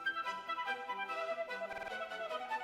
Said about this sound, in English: this is what it sounds like with the Effectrix